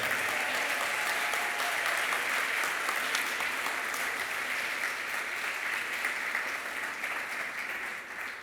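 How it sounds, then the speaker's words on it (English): An awards ceremony audience claps in sustained, even applause that tapers off slightly toward the end. "Round of applause, everybody."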